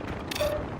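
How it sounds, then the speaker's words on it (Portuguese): A Call of Duty weapon reloaded with a brief mechanical click-and-ratchet of metal parts, short and fairly close over a steady game background. "Tô recarregando."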